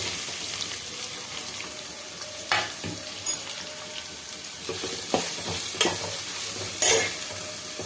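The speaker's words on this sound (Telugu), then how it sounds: "ఇప్పుడు ఆనియన్స్ వేసేద్దాం." Chopped onions sizzling steadily in a hot pan for egg curry, with a continuous frying hiss broken by occasional scrapes and clinks of a spoon stirring, close by and with no talking.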